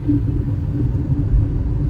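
A Skoda Superb car drives past on a city street near construction, a steady low engine and road rumble that stays loud for the whole stretch, with no talking.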